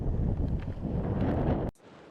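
Heavy wind buffets the microphone at a lakeside with a low, roaring rumble for nearly two seconds, then cuts off abruptly to a quieter background.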